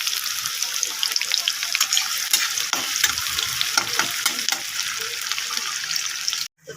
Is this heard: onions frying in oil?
yes